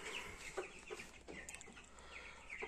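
Brahma hens and their chicks cluck softly and intermittently at a distance, faint scattered calls over a low background hum with no talking.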